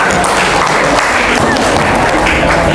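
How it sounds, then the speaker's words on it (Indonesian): Dense, loud applause from a classroom audience, a steady wash of clapping held throughout, with a few thumps and voices mixed into the crowd noise. "Tepuk tangan."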